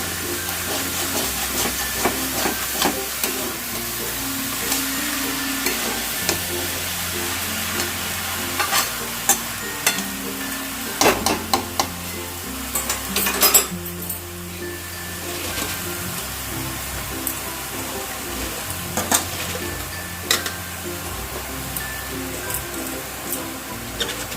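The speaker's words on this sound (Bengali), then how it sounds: "ভাবে আমি এটাকে ভালো করে মিশিয়ে করে দিচ্ছি" A fish head and cabbage are stirred in a frying pan, a steady sizzle and hiss running under repeated scraping strokes of a spatula, with a few sharper clinks against the pan in the middle.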